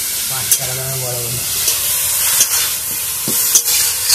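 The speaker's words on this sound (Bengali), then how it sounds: "এবার গাজরটাকে ভেজে নেব একটু।" Carrots fry in hot oil and ghee for carrot laddu, giving a steady close sizzle with a few stirring scrapes and clicks and no talk.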